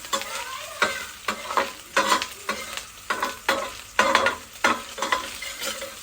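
Fat melting and sizzling in a cooking pan while being stirred, a crackling fry punctuated by repeated scraping stir strokes about every half second, close and moderately loud, with no talk.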